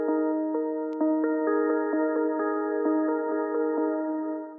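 A clean guitar plays a slow melody of plucked notes through a Valhalla shimmer reverb plugin, each note ringing into a bright, smeared, sustained wash that layers under the next, close and unaccompanied.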